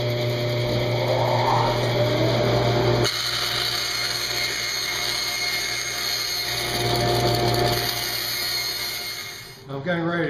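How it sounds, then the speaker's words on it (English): A bandsaw rips thin cherry wood into beading strips about a quarter inch thick, a loud steady whine with a shift in tone partway through as the blade bites, then winds down at the end. "I'll just cut those here on the bandsaw"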